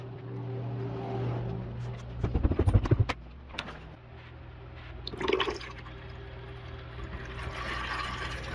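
Water surges through newly fitted bath plumbing under pressure during a test run, a steady rushing flow with a louder burst of splashing midway and another brief gush later.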